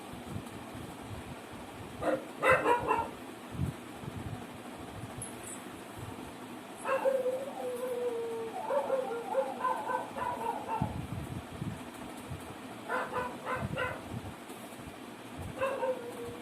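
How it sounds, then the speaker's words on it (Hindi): Dogs bark intermittently in the distance, scattered bursts of several yaps over a low steady background hum. "कुत्तों का तो काम ही भौंकना"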